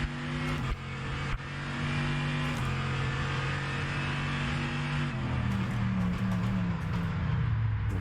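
A 2023 hypercar's race engine in the rFactor 2 simulation mod runs at a steady, close drone, with pitch stepping up and down through gear changes.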